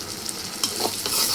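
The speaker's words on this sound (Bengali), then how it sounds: "দিয়ে নেড়ে চেড়ে নেব।" Fried onions with ginger garlic paste are stirred in a hot pan, giving a soft steady sizzle with a few scraping strokes of the spoon, close and fairly quiet.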